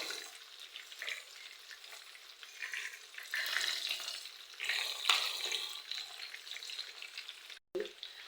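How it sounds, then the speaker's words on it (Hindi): Chicken strips fry in hot oil in a pan, a dense continuous sizzle that swells and fades as the pieces are turned, with a brief clatter near the end; no voices. "बस ऐसे इनको अल्टी पल्टी करा के इनको बस फ्राई कर लेना है।"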